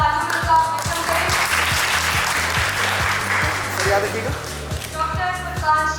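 Audience applauding at an award ceremony during a final year project exhibition, a sustained, close round of clapping under a steady rhythmic thump, with a voice speaking over it.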